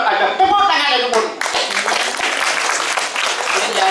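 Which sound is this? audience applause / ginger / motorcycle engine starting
audience applause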